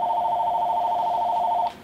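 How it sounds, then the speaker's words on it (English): A telephone rings in a loud, steady electronic tone that holds for well over a second and a half, then cuts off abruptly, followed by a brief faint click. "And I swear I don't see how that phone ring."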